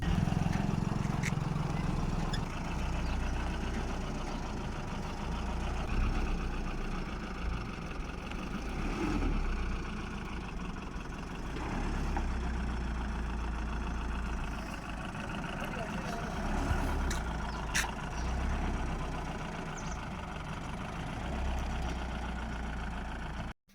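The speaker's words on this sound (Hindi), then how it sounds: "और जीजा जी फिर ले आते हैं गाड़ी।" A vehicle being driven in through a gate, its engine giving a steady, close low rumble like idling throughout, with faint voices in the background.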